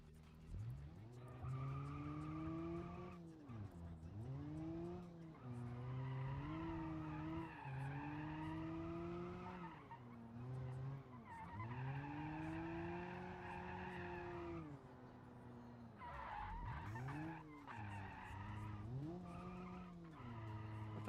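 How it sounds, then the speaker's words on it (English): A 90s Japanese sports car drifting in a video game, its engine whining and revving up and down in long sweeps while the tires squeal and skid continuously, loud and close, with no talk. "Ooh, not very good drifting."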